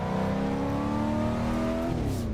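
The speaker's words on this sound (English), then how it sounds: "I just cannot believe this thing only has 200 wheel horsepower." A 1988 Monte Carlo's engine in the Assetto Corsa racing game revs steadily and loudly, its droning pitch climbing smoothly then dipping sharply near the end as if shifting, with no talk over it.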